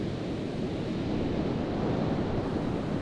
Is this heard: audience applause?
no